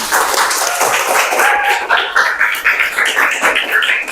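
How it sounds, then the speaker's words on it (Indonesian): Elementary school classroom in Indonesia with children clapping together, a dense, steady patter of many hands filling the room, with voices mixed in underneath. "tepuk tangan untuk kita semua"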